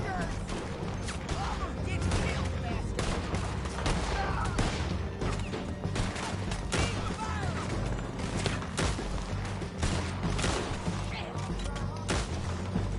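Gunfire in the Western video game Red Dead Redemption 2, with shots and clattering mechanisms crackling over a steady dense backdrop of game sound for the whole stretch while a player speaks.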